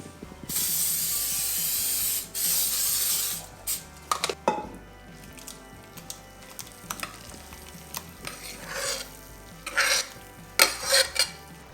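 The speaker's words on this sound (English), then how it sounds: "I cheat, I use cooking spray." A long hissing burst of cooking spray up close into a casserole dish, followed by clinks and clatter of the dish being handled, with a few shorter spritzes later.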